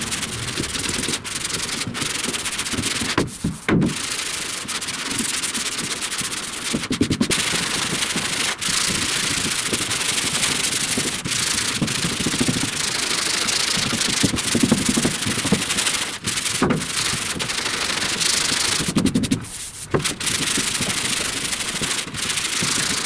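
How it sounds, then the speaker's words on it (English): Block sanding across guide coat on a 1969 Chevrolet C10 rear body panel, a steady abrasive rubbing that runs continuously with brief pauses, close and fairly loud. "when I want to go back and sand the flat spot, I just put it back down flat"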